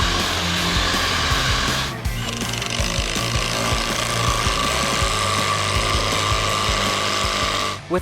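A power tool driving lag bolts into the timber beams of a mountain-bike drop, a loud, continuous buzzing whir with rattling pulses, close up, briefly dipping at one point and cutting off at the end.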